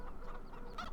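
A brief burst of chicken clucking from a coop in the video game Farming Simulator 2017, close and moderately loud, lasting under a second.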